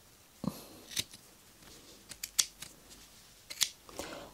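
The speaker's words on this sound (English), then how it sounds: "I'm going to cut off any of these threads" Scissors snipping threads off a needle punch Christmas cushion, several sharp close snips spaced irregularly against a quiet background.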